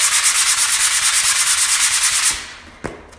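Two new Trim-Tex angle sanders rubbed against each other to soften their rough edges, giving a loud, steady scratchy rasp in quick repeated strokes for over two seconds, then a brief clack near the end.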